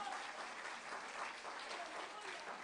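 A church congregation gives applause during a Spanish-language sermon, a soft, steady wash of clapping heard at a distance with faint voices mixed in.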